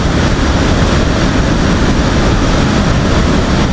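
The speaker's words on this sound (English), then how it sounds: "Hang on, I'm outside the airplane. Sounds like I'm in a wind tunnel." Constant loud wind rushes past the outside of an airliner in flight in a flight simulator, a dense, even roar like a wind tunnel with no talk.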